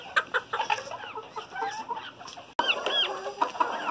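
Several backyard chickens cluck and chatter close by in overlapping, uneven calls, with a brief cut in the middle and no one speaking.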